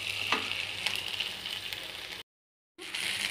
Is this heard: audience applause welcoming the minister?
no